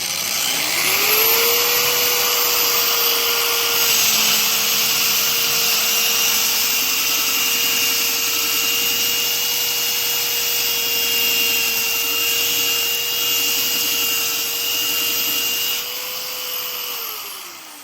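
VEVO 8 amp pipe polisher-sander running an 80 grit belt against rusty electrical conduit, a loud, steady abrasive whine with a constant motor tone that holds for the whole stretch before easing slightly at the end.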